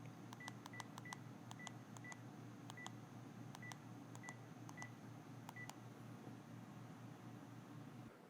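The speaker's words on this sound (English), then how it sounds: "Once you have the dial tone, you can dial the number." Panasonic KX-TGM450S cordless phone keypad tones as a number is dialed, a series of about fifteen short, clean beeps in irregular rhythm over a faint steady hum.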